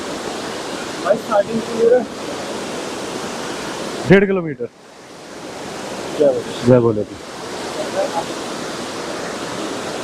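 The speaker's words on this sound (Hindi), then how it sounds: "देखो सबने क्या भयंकर झरना" Loud waterfall on the Madhmaheshwar trek, a constant broadband roar filling the whole clip while people talk over it in short bursts.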